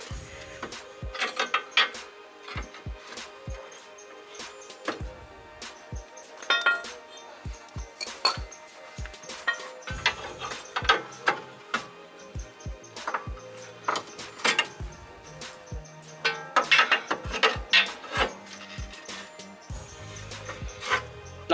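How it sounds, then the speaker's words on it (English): Metallic clanks, knocks and scraping from prying a car's lower control arm away from its ball joint during a CV axle replacement, irregular sharp hits close up throughout. "We're gonna pry the lower control arm"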